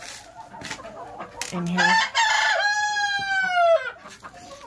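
Chickens in a coop during -33F winter chores cluck and one rooster lets out a loud, close crow lasting a couple of seconds, with a brief spoken remark near the start.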